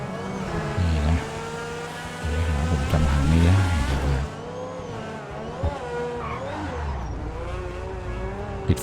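Engine revving and driving off in GTA Online, a loud car roaring with rising and falling revs through the first half, then a steadier, quieter engine hum with a brief tire noise near the end.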